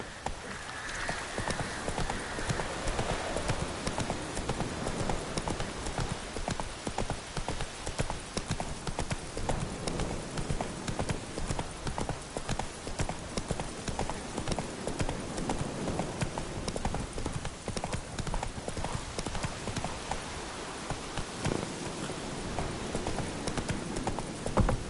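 Roach the horse galloping in The Witcher 3, a continuous rapid clip-clop of hoofbeats over a rustling, rain-like outdoor bed, steady and close for the whole stretch.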